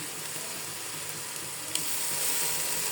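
Washed rice and ginger paste sizzling in hot oil in a pot, a steady close hiss of frying that grows slightly louder partway through, with no talking.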